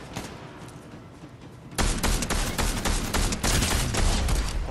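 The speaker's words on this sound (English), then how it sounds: "we're getting shot in the back" Heavy bursts of Fortnite gunfire erupt partway through, loud and close after a quieter stretch of game ambience, continuing as a dense, rapid volley to the end.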